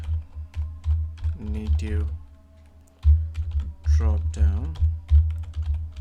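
Computer keyboard keys clatter in quick bursts of typing, pausing briefly midway, with someone speaking over the keystrokes.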